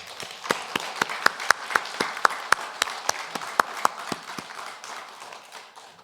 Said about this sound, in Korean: 이 시간 오직 하나님께 영광의 박수를 올려드리겠습니다.